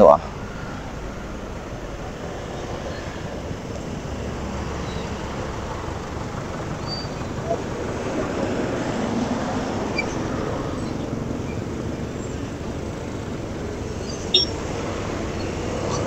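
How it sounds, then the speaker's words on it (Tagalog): Steady roadway traffic noise fills the scene, a broad continuous rumble with passing engines near Muñoz while riding an ADV175 scooter, loud and unbroken with a brief knock near the end. "Yan lang, matraffic to sa Muson."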